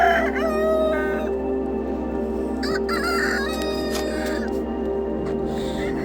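Chickens on a farm with many rare birds, a rooster crowing loudly nearby while hens cluck and fowl chatter around it in a busy barnyard chorus.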